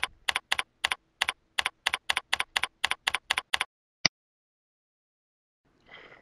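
A user ID and password are typed on a computer keyboard as a quick, even run of about a dozen close keystrokes, then one lone final key press, followed by a brief soft rustle.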